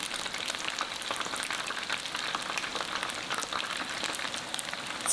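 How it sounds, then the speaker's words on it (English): Continuous dense crackling and sizzling of chicken pieces double-frying in hot oil, steady and close with no voices. "Return the chicken and fry for 1 minute until super crispy."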